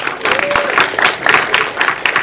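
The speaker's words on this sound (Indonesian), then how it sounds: "Tepuk tangan untuk kita semua" Applause from the audience and media at an Indonesian press conference for the animated film Jumbo, a dense spatter of claps lasting about two seconds with overlapping voices and cheers mixed in.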